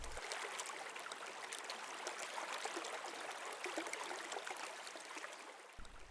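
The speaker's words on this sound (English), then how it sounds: "Let's listen to the sound of a brook" A brook flows steadily in a continuous, fairly faint wash of rushing and trickling water, heard alone without voices.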